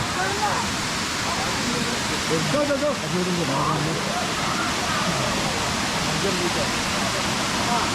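Water pours down the Tad Kuang Si waterfall in Laos, a constant broadband rushing roar heard nearby, with faint voices and a brief tonal call mixed in around the middle.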